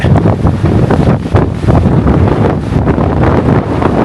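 Strong, gusty wind buffets the microphone on a hiking trail in Clear Creek Canyon, a loud continuous rumble with rushing surges throughout, with no talking.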